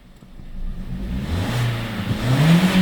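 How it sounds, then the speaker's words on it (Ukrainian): An Opel Corsa with an unstable idle runs and is revved, its engine note climbing steadily and loudly as the revs build over a few seconds, heard alone with no talking. "А ну перегазовку сделаем."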